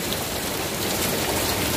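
Heavy rain mixed with hail pours down outside a hotel room in Saudi Arabia, a dense, steady hiss of falling water and ice at close range with no talking.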